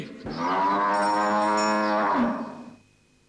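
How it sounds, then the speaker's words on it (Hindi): A cow lows in one long, loud, sustained moo close by, rising and holding steady before fading out, with no other sounds. "किसके लिए रंभा रही हो आज?"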